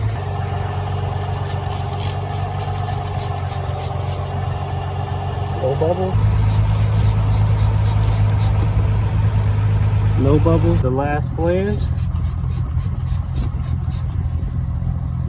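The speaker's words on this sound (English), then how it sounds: "So she's idling very smoothly right now." A 2003 Infiniti G35 with a freshly installed catback exhaust idles smoothly and steadily, a low, even engine hum that runs throughout while someone talks over it.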